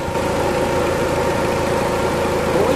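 A Mitsubishi Adventure's engine, prone to overheating and misfiring, idles with a constant low hum and a broadband whoosh of the auxiliary fan running over it, close and unchanging throughout.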